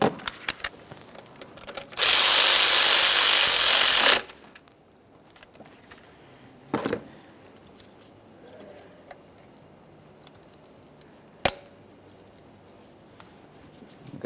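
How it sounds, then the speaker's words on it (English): 10mm mounting bolts being secured on the intake plenum of a 2012-2018 Nissan Maxima 3.5L V6, with a loud two-second burst of tool noise followed by a few sharp, isolated metallic clicks in an otherwise quiet garage. "we're going to start resecuring these areas with our 10mm headed mounting bolts as well"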